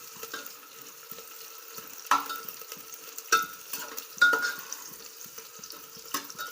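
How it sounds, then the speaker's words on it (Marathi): Garlic paste fries in a pan for vegetable biryani, a quiet, continuous sizzle punctuated by several scraping spoon strokes as it is stirred. "आपल्याला लसणाची पेस्ट टाकायची ती पण अशी मिक्स करून घ्यायचे चांगली अशी लाल होईपर्यंत तळून घ्यायचे"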